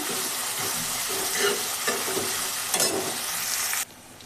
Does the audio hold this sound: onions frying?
yes